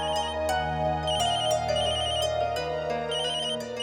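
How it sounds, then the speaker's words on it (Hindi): A mobile phone ringtone plays loudly and continuously in a Hindi TV drama scene, a repeating melodic electronic tune with a steady beat, heard alone with no talking. "बज रहा है फोन।"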